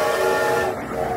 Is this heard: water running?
no